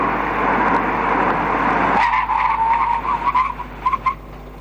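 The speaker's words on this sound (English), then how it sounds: "we test the brakes by coming to a full stop from 100 kilometers per hour on dry concrete" A car braking hard from 100 km/h to a full stop on dry concrete, loud rushing road noise giving way to a drawn-out tire squeal with chirps as it halts.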